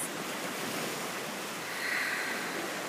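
Steady wash of ocean waves breaking on a shore, a broad continuous surf roar with gentle swells and light wind, heard alone without talk.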